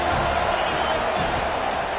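Loud stadium crowd roaring continuously at a football game on third down, a dense unbroken wall of cheering and noise with no pauses.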